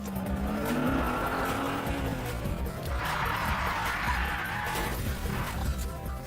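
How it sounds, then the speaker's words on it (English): A powerful supercar floored so its wheels spin and lose grip, sliding into a drift: a loud, steady engine roar with rising tire squeal and skidding noise running throughout, no talk. "flooring it in a powerful supercar causes those wheels to spin and lose friction, creating an impromptu drift"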